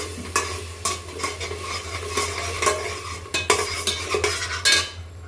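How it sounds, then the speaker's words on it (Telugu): Ginger garlic paste fries in a pan for mint pulao while a metal spatula stirs it. Sharp, rhythmic scrapes and clinks repeat over a continuous close sizzle. "ఇందులో మనము అల్లం వెల్లుల్లి కూడా వేసాం కదా, అది కూడా కొంచెం పచ్చివాసన పోయేంత వరకు వేయించేసుకోవాలి"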